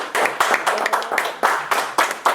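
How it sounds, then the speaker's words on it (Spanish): A small group claps steadily for a couple of seconds, the hand claps fairly loud and close with no voices over them. "Este es el trabajo de Edward, un aplauso para Edward."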